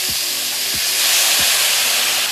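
Soy sauce hitting a hot pot of browning meat for kimchi soft tofu stew gives a loud, steady steaming hiss and sizzle, with a few brief clanks of a utensil early on.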